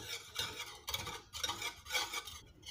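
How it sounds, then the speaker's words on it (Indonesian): Yellow food colouring being stirred into an egg yolk pudding mixture, repeated swishing scrapes of a utensil around a bowl in a quick irregular rhythm, close up. "sedikit pewarna kuning makanan kurang lebih dua tetes kita aduk"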